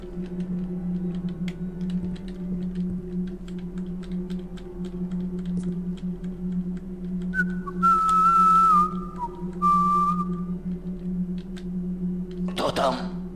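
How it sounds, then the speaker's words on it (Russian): A guard whistles a wavering tune in the stealth game Thief: The Dark Project, clear but moderate over a steady low hum, in two short phrases, with a sudden burst of noise near the end. "где-то тут свистит"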